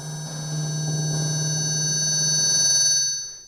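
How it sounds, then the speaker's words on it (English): A sustained reverb feedback note from an Airwindows matrix reverb plug-in rings as a steady low hum with bright high partials, swelling slightly before cutting off after about three seconds. "yep, that's a note, it's a feedback note"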